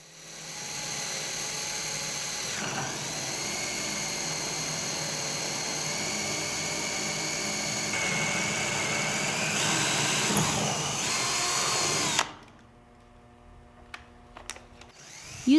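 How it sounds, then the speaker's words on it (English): A power drill bores a hole, first with a pilot bit and then with a letter D bit. It runs as a steady, loud, continuous whine for about twelve seconds, then stops, leaving faint clicks and handling noise. "Start with a pilot drill bit and then open the hole with a letter D drill bit."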